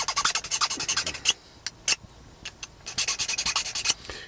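Hand file rasping at the broken tip of a stone point, quick bursts of short scraping strokes in a fast rhythm, interrupted by a brief pause with a few isolated scratches before the strokes resume, close up and without speech.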